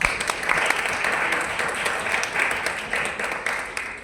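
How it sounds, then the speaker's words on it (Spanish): An audience gives a theatre collective a warm round of applause, moderately loud clapping with uneven swells that carries on steadily throughout. "Entonces, por favor, le damos un gran aplauso."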